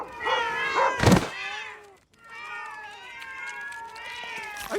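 Cartoon cats meowing and caterwauling in a crowd, a loud thump midway, then a long chorus of drawn-out yowls and meows continuing after a brief pause.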